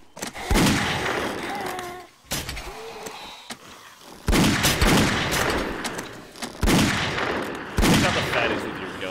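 Bursts of rapid gunfire in the video game 7 Days to Die, loud repeated volleys separated by brief pauses, with a voice talking faintly at times.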